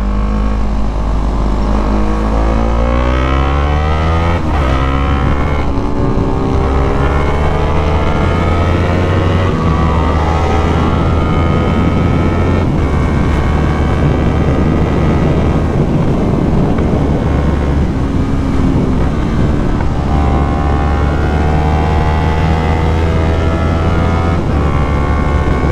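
A Yamaha MT-03 motorcycle engine revs and drops steadily as it shifts up through the gears without the clutch, loud and close, with constant rushing wind noise over the whole run.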